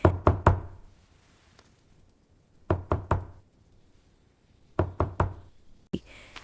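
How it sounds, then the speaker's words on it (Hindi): Light knocking on a door, three quick raps repeated in three separate bursts with quiet pauses between, close and clear, followed by a brief soft rustle at the end. "अचानक दरवाजे पर हल्की सी दस्तक हुई"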